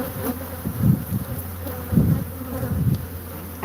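A swarm of killer bees buzzes inside a washer/dryer, a loud close droning hum that swells in a few pulses as the insects move about, with no voices.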